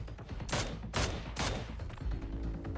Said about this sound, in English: Lufa hearing the sniper shots whizzing by him